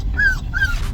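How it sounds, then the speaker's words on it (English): A ranch dog in Wyoming gives two short, high whimpers in quick succession, close by and alone, with no talk. "Ranch dog."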